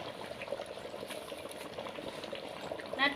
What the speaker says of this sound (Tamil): கொதிச்சிருச்சு குழம்பு கொதிச்சுட்டு இந்த கீரை சேர்த்துக்கலாம்